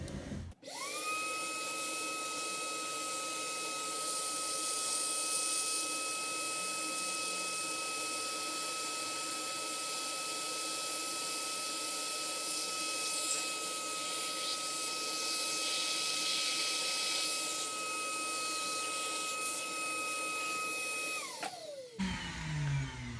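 A Dremel rotary tool sands a Tamiya Mini 4WD MA chassis part, giving a steady high-pitched whine that spins up, holds close and constant for about twenty seconds, then winds down.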